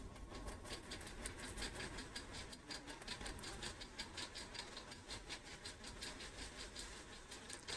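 A sewing machine stitches fabric for an invisible shoulder seam, its quiet rapid needle rattle running steadily and faintly throughout with no talking.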